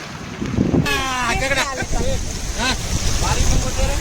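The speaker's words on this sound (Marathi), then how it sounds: "बघा केवढा सारा पाऊस केवढी सारी हवा" Heavy rain and gusting wind roar steadily and loudly in Nashik while a person speaks over the noise.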